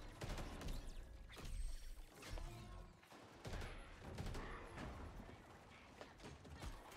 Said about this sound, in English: they really buffed the assault rifle